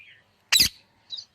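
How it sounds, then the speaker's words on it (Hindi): A parrot lets out a single loud, harsh squawk, framed by a couple of softer, thin chirps before and after in otherwise quiet surroundings. "तोता बोल रहा है।"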